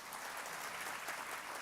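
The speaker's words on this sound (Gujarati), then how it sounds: "જબરજસ્ત તાળીઓ સાથે." Brief, faint burst of audience applause at a motivational talk, an even wash of many hands clapping at a distance.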